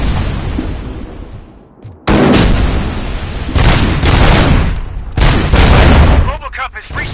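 Heavy gunfire in the RoboCop: Rogue City video game erupts loudly in sustained bursts and booming shots, briefly dropping away before resuming as a dense fusillade, with shouted voices mixed in.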